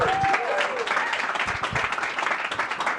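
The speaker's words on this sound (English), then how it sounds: "Let's give one more big round of applause" Steady audience applause at a startup demo day, a dense wash of many hands clapping throughout, fairly loud and continuous.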